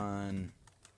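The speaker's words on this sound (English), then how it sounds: "I'm typing away at the same time as talking to you guys." Quiet clicks of typing on a computer keyboard follow a voice that is trailing off, a few soft keystrokes heard faintly and close.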